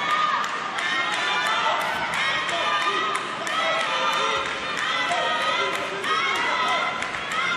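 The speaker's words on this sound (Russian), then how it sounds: "слышим, как сборная Ирана, болельщики поддерживают Ализадех" Iranian supporters cheer for Kimia Alizadeh during a taekwondo world championship bout, a steady, dense crowd roar with shouts and whistles filling the arena throughout, close and loud.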